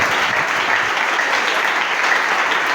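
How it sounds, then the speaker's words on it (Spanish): A church congregation applauds during a Spanish-language sermon, broad dense clapping from many hands that holds steady and fairly loud throughout, with no voice on top. "Que usted pueda aplaudir al Señor"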